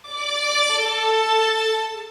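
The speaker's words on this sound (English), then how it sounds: "introduces this new violin melody" Violin melody in a song, a sustained, bright, bowed line sliding between a few long held notes, heard alone and steady at moderate loudness with no percussion.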